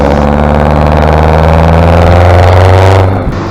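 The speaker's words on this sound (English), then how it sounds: "it's an indirect diesel mechanical injection with a big old turbo" Indirect-injection mechanical diesel with a big VNT turbo on a racetractor, running loud and close with a steady low drone and whirring turbo, then dropping off near the end.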